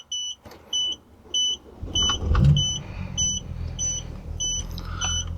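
BMW E46 wagon with an N54 turbo engine cranking and catching midway, settling into a low rumbling idle under a repeating high electronic chime that keeps beeping in regular pairs.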